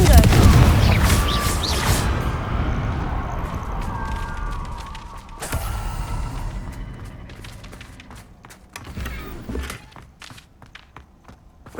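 Confringo fire spells blasting in the Hogwarts Legacy video game, a loud burst at the start and another sharp explosive crack midway, followed by smaller thuds and pops fading under the game's ambient clatter.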